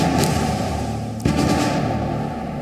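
A sharp, heavy boom from the explosive demolition of the Noida twin towers cracks over a steady low rumble, followed by rolling crackles and a dull roar that slowly fades.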